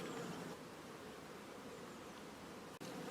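Honeybees at an open hive on a cool morning give a faint, steady, diffuse hum that runs unbroken throughout, with a brief dropout near the end.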